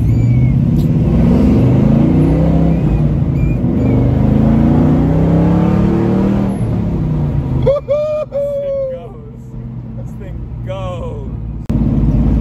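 A 1970 split-bumper Camaro pro-touring car with an LS1 engine cruises in third gear at about 40 mph and 2,000 rpm, its low engine drone running steadily beneath continuous talk inside the car.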